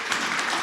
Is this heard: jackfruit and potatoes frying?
no